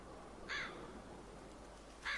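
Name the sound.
crow cawing in The Walking Dead video game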